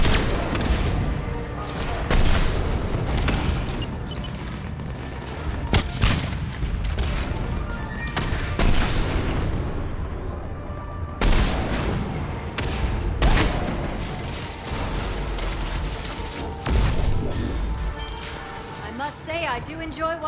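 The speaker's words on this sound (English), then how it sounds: "I do enjoy watching mechs explode." Mechs explode in the Mass Effect 3 video game, a dense barrage of booms, gunfire bursts and crashes that carries on throughout, with voices talking over the combat.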